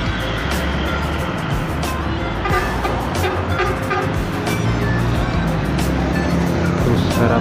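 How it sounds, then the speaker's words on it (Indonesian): A Harapan Jaya coach bus arrives on a toll road on a busy Monday morning, its engine rumbling continuously and fairly loudly with steady broadband road and traffic noise throughout. "Dan apa ya, ada bus yang datang. Itu adalah bus dari Harapan Jaya."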